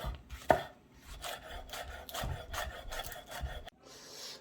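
A knife slices through a spring onion on a cutting board, giving a sharp initial chop followed by a series of soft, rapid rubbing and cutting strokes, close and quiet.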